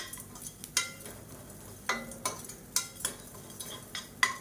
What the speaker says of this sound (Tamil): இந்த உப்பையும் சேர்த்து நல்லா வறுத்துக்கலாம்